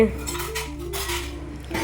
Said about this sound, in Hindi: सबसे पहले मैंने सामने जो रैक है बर्तन वाला उसके सारे बर्तन उतार के उसको साफ़ किया एक एक करके